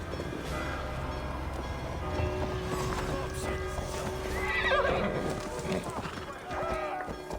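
A horse in Assassin's Creed Valhalla whinnies and neighs while its hooves clip-clop steadily beneath a talking voice and game ambience.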